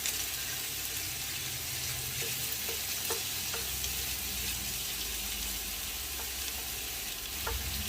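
About 1.25 pounds of meat for chili sizzling steadily in a freshly heated pan, a dense, even crackle close by with occasional sharper pops and no voices.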